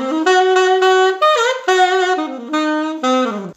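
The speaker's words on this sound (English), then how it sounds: "That na na na sound you're hearing is often referred to as ghost tonguing, half tonguing, doodle tonguing" A saxophone plays a flowing jazz line with half-tonguing (ghost tonguing) articulation, the notes softly dented and connected in a quick, close, solo phrase.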